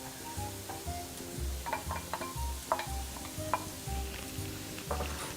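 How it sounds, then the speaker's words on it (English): Shredded carrots being stirred into a mixture in a pan while cooking, with repeated scraping and tapping of a utensil against the pan in an uneven rhythm over a soft steady sizzle. "Stir the mixture a little bit and add the shredded carrots."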